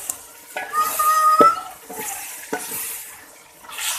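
Chicken curry being stirred in a pan, with scattered scraping and clinking strokes of a spoon against the metal and a faint sizzle underneath, fairly close and moderately loud.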